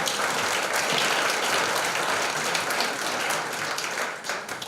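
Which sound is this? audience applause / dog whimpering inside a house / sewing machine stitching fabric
audience applause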